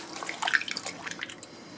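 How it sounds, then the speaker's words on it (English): Cold water pours and splashes into a jug for homemade liquid laundry soap, a short, close burst of gurgling and dripping. "And we'll add some cold water"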